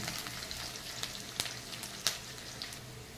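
Onion fries in oil with two cardamom pods and a piece of cinnamon, a soft steady sizzle with a few sharp ticks and spatula scrapes, fairly quiet and close, no voices.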